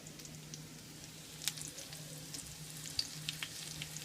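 Black bean burger patties frying in a pan give a steady, soft sizzle with faint crackles and a few sharper pops scattered throughout, fairly quiet, with no voices.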